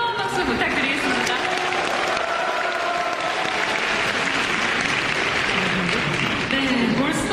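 Steady, full applause from a concert crowd at a Marine Corps military band's annual concert, a dense wash of many hands clapping continuously for the whole stretch, with faint voices and cheers mixed in.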